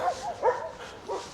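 A dog out on a walk gives two or three short, moderately loud yips or barks in quick succession, with no talk over them.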